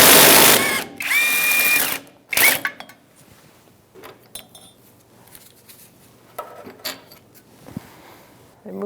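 A power tool whirs in short, loud bursts while bolts come off a Ford Expedition drive shaft. Metallic clinks and rattles of parts and tools follow in the quieter gaps.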